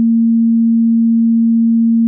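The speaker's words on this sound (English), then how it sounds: "if you just plug to the grind input and take the grind out, you get an inverted sine wave." A steady, pure sine tone from an audio patch, inverted in phase, holds one unwavering low-mid pitch at constant loudness from start to finish with nothing else present.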